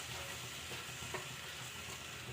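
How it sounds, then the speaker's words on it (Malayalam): Flattened rice being stirred together with milk in a pan, producing a continuous close sizzling, stirring hiss with a soft scrape near the middle and no talking. "പാലും ചേർത്ത് കൊടുത്തതിന് ശേഷം നമുക്ക് നല്ലതുപോലെ മിക്സ് ചെയ്ത് കൊടുക്കാം"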